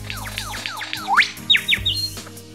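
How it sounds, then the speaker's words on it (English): A lyrebird calls alone in a rapid run of five or six swooping, repeated chirps, then a few sharper, higher whistled notes, clear and fairly close over a low steady hum. "Lyrebirds are the avian maestros of auditory mimicry."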